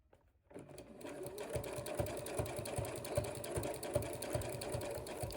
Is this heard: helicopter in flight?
no